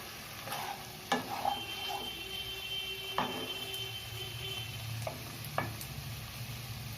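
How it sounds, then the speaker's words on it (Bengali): Cauliflower roast with spices and oil is stirred in a pan. A low, steady sizzle runs throughout, close by and moderately quiet, with scattered soft scrapes and taps of the spoon. "দিয়ে একবার ভালোভাবে আবার মিশিয়ে নেব।"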